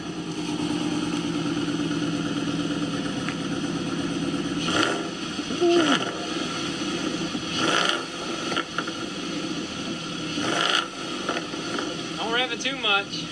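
Engine sound with several surges of revving, loud and close, running throughout alongside voices talking and a short whistling tone near the end.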